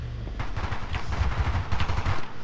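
Dense rattling gunfire in a shooter game, a continuous rapid stream of close, punchy shots lasting a couple of seconds before cutting off.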